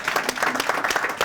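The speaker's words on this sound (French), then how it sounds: "on peut l'applaudir" Audience applause at a French show, a short burst of steady dense clapping from a crowd at moderate volume, heard on its own.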